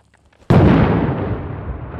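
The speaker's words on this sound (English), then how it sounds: "Grenade." A grenade detonates in 6 Days in Fallujah, a sudden loud blast after a brief quiet moment, followed by a long rumbling decay.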